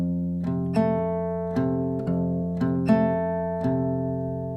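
Acoustic guitar fingerpicking a repeating arpeggio over a simple fretted chord, with a plucked note roughly every 0.7 seconds ringing into the next, close and clear, played alone without talk.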